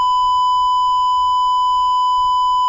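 A sustained censor bleep, a steady pure electronic tone at about one kilohertz, sounds loud and unbroken for nearly three seconds, with only faint low rumble beneath it.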